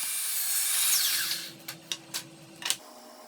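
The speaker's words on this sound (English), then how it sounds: "I'm using my miter saw to cross cut the stretchers" A miter saw crosscuts a wooden stretcher in one loud, buzzing cut, and the blade whines down afterward. A few sharp clacks of wood being handled follow in the quiet.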